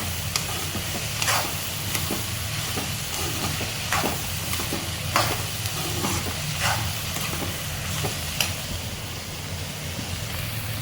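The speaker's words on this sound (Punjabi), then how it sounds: "ਇਸ ਤਰ੍ਹਾਂ ਕਰਕੇ ਪਿਆਜ਼ਾਂ ਨੂੰ ਆਪਾਂ ਚੰਗੀ ਤਰ੍ਹਾਂ ਭੁੰਨ ਲੈਣਾ ਵਾ 골ਡਨ ਬ੍ਰਾਊਨ ਕਰ ਲੈਣਾ ਵਾ" Onions fry in a pan as they are stirred, a constant close sizzle broken by regular scraping strokes of a spoon roughly every second or so, with no talk.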